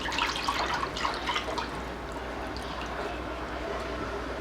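Tomato carrot soup stock pours into a pot with a splashing, gurgling rush that is strongest at first, then settles into a softer steady trickle.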